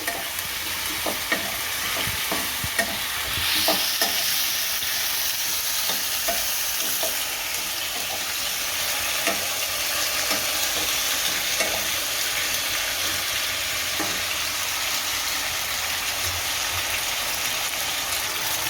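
Potato chip curry simmers on low heat in a pan, giving a continuous soft sizzle and frying hiss broken by scattered scraping stirs of a spoon, close and steady with no talking.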